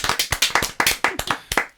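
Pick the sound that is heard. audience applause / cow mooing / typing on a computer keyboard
audience applause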